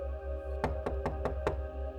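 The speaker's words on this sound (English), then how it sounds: "the Silver Finned Gooper knocked on the side of the steel ship" Five hollow knocks on the side of a steel ship, evenly spaced and fairly loud, ringing over a steady low underwater-like hum with no talking.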